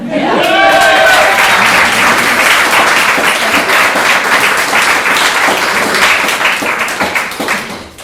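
A crowd at a political meet-and-greet bursts into loud, sustained applause for a Lieutenant Governor candidate, with dense clapping and a few cheers, holding steady for several seconds before starting to fade.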